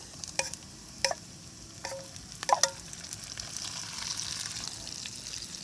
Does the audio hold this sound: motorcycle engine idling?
no